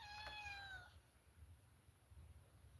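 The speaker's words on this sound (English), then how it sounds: "where that cat won't shut the hell up" A neighborhood cat in Kentucky lets out a single drawn-out, whining meow near the start, then only a low hum of background noise remains.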